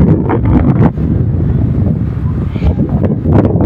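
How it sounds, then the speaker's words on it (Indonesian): Strong gusting wind at an outdoor coconut planting site on World Coconut Day in Gorontalo, loud rumbling buffeting against the microphone that rises and falls in gusts throughout. "dengan hembusan angin yang begitu kencang."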